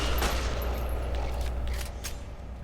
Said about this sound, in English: Oh, we have the auto pistol. Yeah, let's use that.